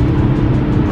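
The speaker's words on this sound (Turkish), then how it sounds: "Arabayı kökledim şu an." A car at full throttle produces a loud, continuous engine roar with road noise at roughly 160 km/h, sustained and close throughout.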